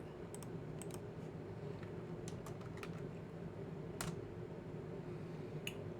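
A Linux command is tapped out on a computer keyboard in scattered, quiet clicks and short bursts of keystrokes over a low room hum, with no talking.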